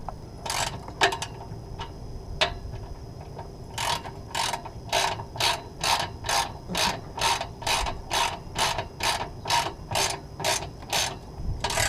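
A ratchet wrench tightens exhaust clamps on a 2016 Duramax with a Flo Pro 5-inch exhaust, first a few scattered clicks, then a steady, even run of rapid ratcheting strokes, close and clear.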